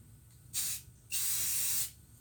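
Spray paint hisses over a leaf to leave a camouflage pattern, two close bursts, a short puff followed by a longer steady spray of nearly a second, with quiet between them.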